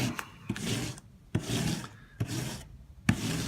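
Rough, rhythmic rasping strokes in steady bursts of about a second each, close and fairly quiet, as a heavy textured paint roller is worked across a wall applying whitewash.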